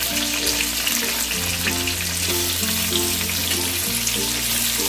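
Paneer cubes sizzle steadily in hot oil in a pan, a dense continuous frying crackle at close range with no talking.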